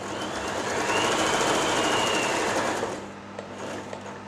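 A Janome J3-18 sewing machine running steadily, a loud continuous whirring stitch for about three seconds that then stops, leaving a few faint clicks.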